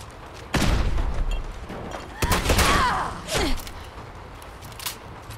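Gunfire in the video game Fallout 4: a sharp shot near the half-second mark, then a louder burst around two seconds with a trailing ringing tail, and a few fainter pops afterward, with no talk.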